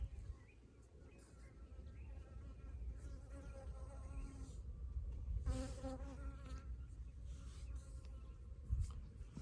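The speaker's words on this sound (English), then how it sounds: "And honeybee dancing around." A honeybee buzzes around outdoors on a mountain, a steady insect drone that comes close and swells at moments above soft background rumble, with no talking.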